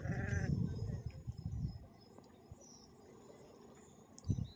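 A lamb bleats loudly a few times at the start, then a quieter outdoor stretch with insects chirping, and another short bleat near the end.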